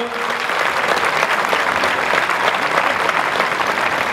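Steady, dense audience applause in a bullring arena during a course camarguaise event, a broad wash of clapping from a large crowd holding at even loudness throughout.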